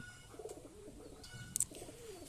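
Pigeons cooing over a coop, soft repeated throaty coos in close succession with a few brief flutters or scuffles, fairly quiet and without speech.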